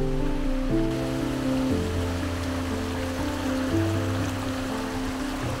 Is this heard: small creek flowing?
yes